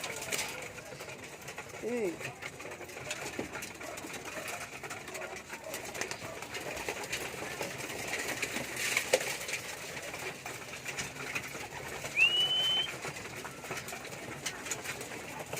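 Racing pigeons eating nearby, soft low coos scattered through steady background noise, with someone talking quietly at times.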